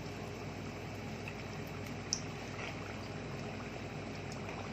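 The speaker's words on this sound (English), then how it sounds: "So, we drop it into the oil." Battered fish pieces hitting already-hot frying oil in a home kitchen pan, giving a steady broadband sizzle and bubbling that holds evenly throughout, with one brief sharp spike midway.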